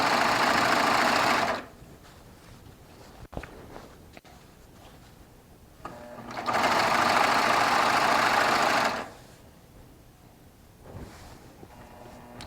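A Baby Lock Triumph serger trims the edge of a quilt sandwich, running in two loud steady bursts of a few seconds each, separated by quiet pauses with faint handling noises.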